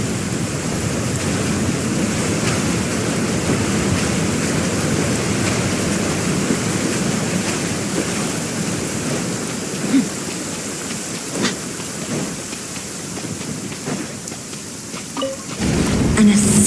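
Steady, heavy rain pours throughout in the video game Genshin Impact, with low thunder rumbling beneath it and a few brief cracks and rumbles near the end.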